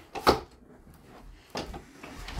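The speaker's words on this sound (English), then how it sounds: "Shut the door." A door shuts with a sharp, close wooden knock, followed about a second later by a softer thud in a quiet room.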